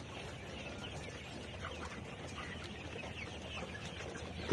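Layer pullet hens on a poultry farm, a steady low chorus of soft clucking and murmuring from many birds at moderate distance, with a sudden bump of noise at the very end.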